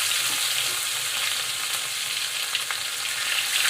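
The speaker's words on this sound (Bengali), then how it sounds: "কালো জিরে দিলাম তেলের মধ্যে, তেলটা গরম হয়ে গেছে, তারপর পেঁয়াজ পাতা দিলাম" Nigella seeds and spring onion greens fry in hot oil with a steady, loud, close crackling sizzle that holds evenly throughout, with no voices.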